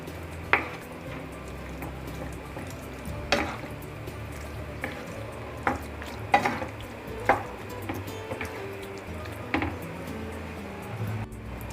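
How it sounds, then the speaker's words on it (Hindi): Boiled pasta being gently stirred into a creamy veggie sauce in a pan, with soft wet sloshing and occasional light spoon taps against the pan over a faint steady sizzle, fairly quiet and close. "और पास्ता को हमने बॉईल करके रखा था वो इसमें ऐड कर देंगे हम। अच्छे से खोल लीजिएगा इसे। और इसे हल्के हल्के हाथ से हम मिक्स कर देंगे।"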